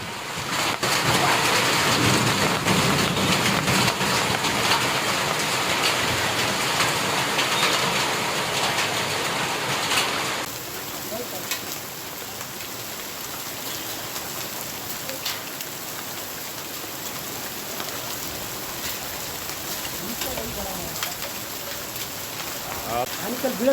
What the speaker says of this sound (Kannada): ಸಂಜೆಯಿಂದ ಸುರಿತಾ ಇರುವಂತಹ ವಿಪರೀತ ಮಳೆಗೆ ಸಾಕಷ್ಟು ಅವಾಂತರಗಳು ಕೂಡ ಸೃಷ್ಟಿಯಾಗಿದೆ